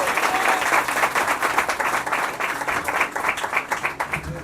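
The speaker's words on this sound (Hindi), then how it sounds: "जोर से प्रभु के लिए ताली बजाए" A church congregation claps loudly for the Lord during a sermon, a dense run of rhythmic clapping sustained throughout, near and energetic, with no talk over it.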